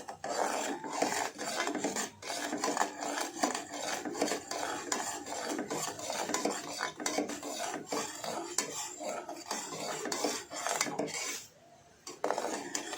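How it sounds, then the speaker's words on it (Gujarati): Spices with salt and asafoetida being stirred in a heating pan, a steady scraping and rasping of a spoon against the pan bottom, close and continuous, briefly pausing near the end. "હવે આ બધા મસાલાને આપણે હલાવી કાઢીશું"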